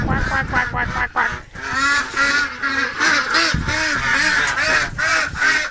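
A crowd of ducks quacks nonstop, loud and close, with overlapping nasal honks filling the whole stretch.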